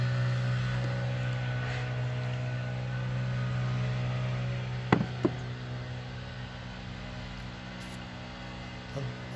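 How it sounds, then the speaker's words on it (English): A microwave oven defrosting a chuck steak gives off a steady low electrical hum with a faint fan whir, broken by a couple of short clicks and knocks partway through. "I'm defrosting a chuck steak"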